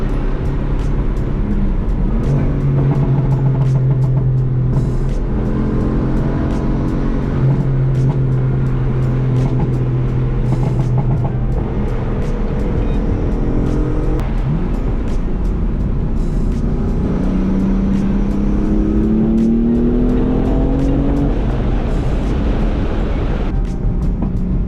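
2015 BMW M4 with a 500 HP engine and six-speed manual driving near a beach, loud engine pulling through gears with pitch rising and dropping at each hard shift, heard from inside the car.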